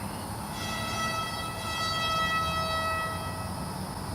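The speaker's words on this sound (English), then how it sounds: "somebody has got an air horn over there for some reason" An air horn blows somewhere off to one side outdoors, a steady held tone with bright stacked harmonics sounding for several seconds over background noise.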